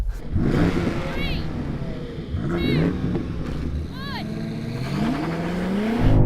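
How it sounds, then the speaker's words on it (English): A 1000hp BMW M5 accelerating hard with its wheels spinning: loud engine revs climb in three sweeps, with shifts between them and the last shift into 4th gear. Someone talks over the engine. "It spun its wheels and went into 4th gear."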